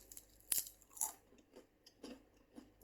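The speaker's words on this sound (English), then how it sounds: "Can you hear that crunch?" Several crisp crunches of tortilla chips close to the mic, spaced about half a second apart, with quiet chewing in between.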